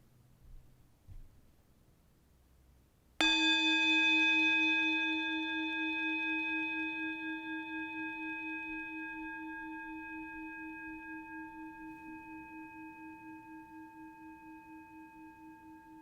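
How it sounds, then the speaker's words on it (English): A bell at a Sunday church service is struck once after a few seconds of quiet room noise, then rings with a clear, pulsing tone that slowly fades toward silence. "As we follow the sound of the bell into silence"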